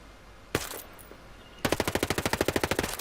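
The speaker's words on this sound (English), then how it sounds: "One round aimed and then full auto." Unsuppressed MPX or MP5 submachine gun in Ghost Recon Breakpoint, one single aimed shot followed after a pause by a rapid full-auto burst of about fifteen loud, sharp reports, close and unaccompanied.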